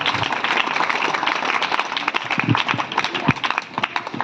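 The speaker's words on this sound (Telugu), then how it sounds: "తెలపండి అందరూ చప్పట్లతో మీ సమ్మతి." A crowd claps and applauds at a school event, a dense, steady patter of many hands that goes on throughout, with some voices faintly mixed in.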